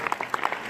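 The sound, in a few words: applause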